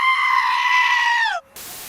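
A goat screams in one long, loud, strained human-like yell that holds steady and then bends downward and cuts off abruptly, followed by a soft hiss.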